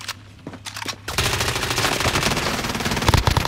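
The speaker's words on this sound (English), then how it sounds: "Taking fire." Video game gunfire in Call of Duty: Modern Warfare erupts after a second of quieter sounds, becoming a dense, loud, sustained burst of rapid automatic shots.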